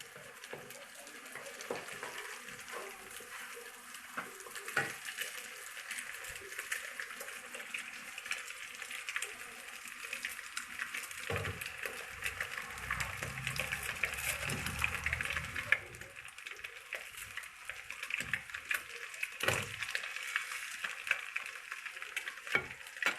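Scrambled egg frying in a pan as four packets of noodles are stirred in, a continuous moderate sizzle broken by repeated scraping and clinking of the utensil against the pan, with no talk over it.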